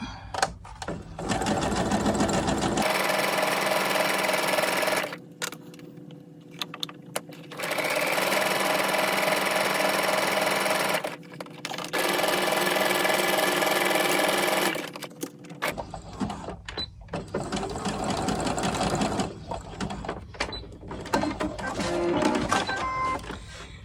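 A sewing machine runs a stretch stitch on small doll underwear, loud steady whirring bursts of several seconds each, separated by brief pauses and soft handling noises.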